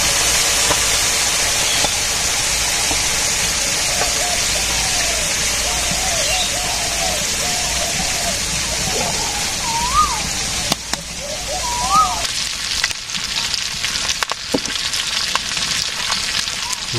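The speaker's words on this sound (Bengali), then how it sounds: "মাছ আগে ভাজি করি" Fish fries in a pan with a steady, loud hiss of sizzling oil throughout, with faint voices in the background and a few clatters near the end.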